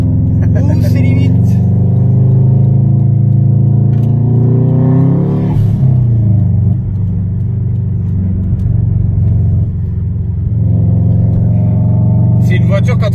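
A Subaru Impreza WRX STI with about 500 hp rumbles with a deep, loud engine note that rises and falls as it revs, with a brief higher sweep midway, heard from close by.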